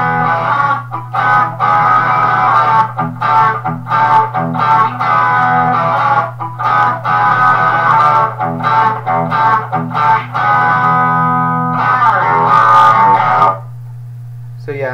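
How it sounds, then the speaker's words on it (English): Squier Standard Stratocaster from 2002, played through the bridge pickup into an overdriven amp, chugs out a loud, dense run of distorted riffs with short choppy breaks, steady for most of the stretch before dropping off near the end. "my amp's ready for more of a bridge pickup distortion sound"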